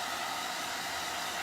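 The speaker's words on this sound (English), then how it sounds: "I'm going to go ahead and give this a quick dry. Now I'm going to dry this on cool" Steady, close hair dryer blowing on its cool setting to dry a transfer, a constant whooshing airflow with no talk over it.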